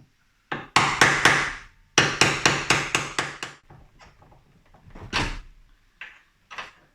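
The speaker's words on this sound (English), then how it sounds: "I'm using an old screwdriver just to knock the pins out" An old screwdriver is hammered against the hinge pins of a Vauxhall Nova SR tailgate, giving two close, loud bursts of rapid metallic knocks, several strikes each, followed by a few scattered taps.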